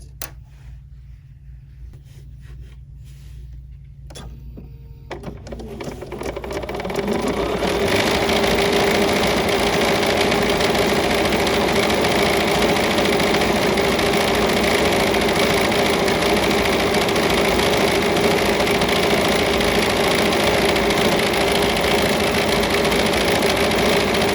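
A BERNINA embroidery machine stitching out a design: a few soft handling noises in near quiet, then a loud, steady mechanical drone starts up and runs continuously to the end.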